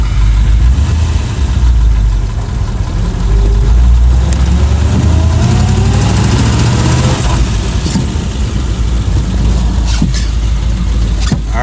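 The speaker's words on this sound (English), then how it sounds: "it's just like a hot rod Ford tractor" A Ford tractor engine runs loud and close, a continuous low rumble that holds steady throughout with faint rattles over the top.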